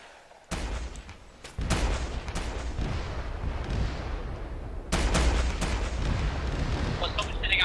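An anti-tank gun in a video game fires in three heavy, close blasts, each followed by a long rumbling tail, with small clicks and beeps after the last shot.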